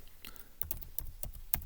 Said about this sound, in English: So let's start typing with an equals